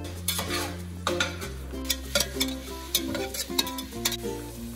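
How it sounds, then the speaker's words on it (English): Tomatoes with cayenne pepper cook in a pan for African beans and rice, heard as quiet, uneven stirring taps and scrapes over a faint sizzle, with steady background music underneath. "we add the tomatoes. We're gonna let it cook for 5 to 7 minutes."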